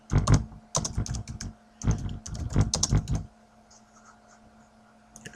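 Typing on a computer keyboard, with quick clustered key clicks in several bursts for about three seconds, then a near-silent room.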